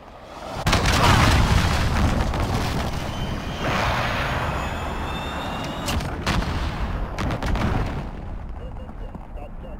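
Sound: enemy cruise missile explosions, Call of Duty Modern Warfare video game

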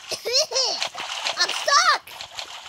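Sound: splash of falling into water in video game Hello Neighbor

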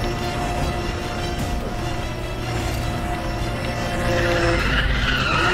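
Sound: car drifting and tire skid in video game Need for Speed The Run

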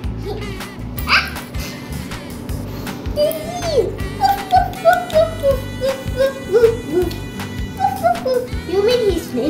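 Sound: dog whimpering and barking

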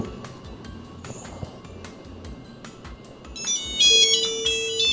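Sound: 1990s mobile phone incoming call ringtone

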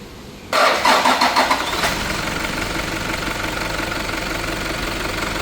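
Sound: car engine starting and warming up after fresh oil change

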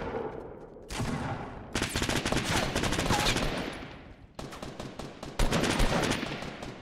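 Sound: shotgun shots in the video game Fortnite

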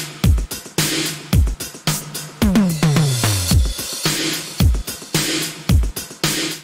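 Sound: synthwave drum group loop

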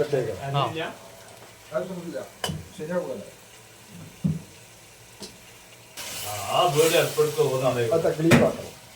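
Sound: onions, green chillies, ginger and garlic sizzling in a pan

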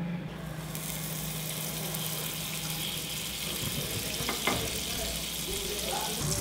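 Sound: butter melting on a preheated pan

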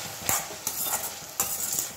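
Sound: stirring and mixing potato fry in a pan

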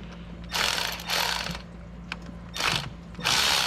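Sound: ratchet loosening a 10 mm bolt on a Fiat 500

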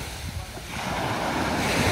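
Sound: waves breaking on the beach at Kuşadası

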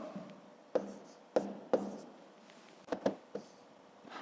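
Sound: writing numbers in a notebook

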